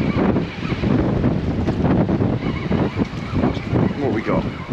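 Strong wind buffets a small fishing boat out on Southampton Water at night, a steady broadband rush with gusty swells and knocks, loud and close throughout.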